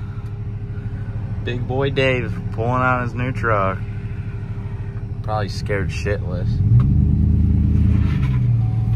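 A new 6.0 pickup truck pulling out, its engine rumbling steadily close by and swelling louder toward the end, with people talking over it through the first part.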